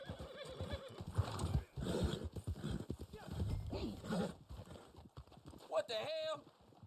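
Quick clip-clopping hooves from a horse in the video game Red Dead Online run steadily beneath someone talking, ending with a short whinny near the close.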